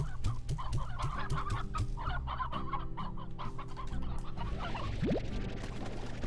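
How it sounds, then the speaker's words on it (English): Video game hens cluck and chatter in a busy flock, with overlapping calls and a brief rising squawk near the end, steady background ambience. "Look at all these hens."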